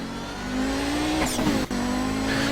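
Race car in iRacing at Sebring, a steady loud engine drone climbing in pitch, with a brief burst of tire noise and a sharp shift cut midway before the engine pulls on again.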